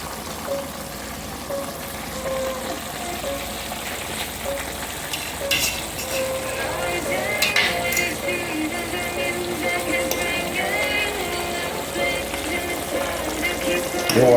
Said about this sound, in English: And I'm going to add my red pepper.